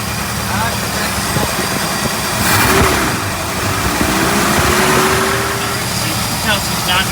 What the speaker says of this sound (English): You can tell she's not idle and smooth or happy.